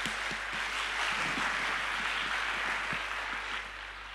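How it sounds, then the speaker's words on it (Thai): A church congregation bursts into sustained applause, a dense, steady wash of many hands clapping together that fills the hall and tapers slightly at the end. "พี่น้องปรบมือให้กับพระเจ้าหน่อยนะคะ"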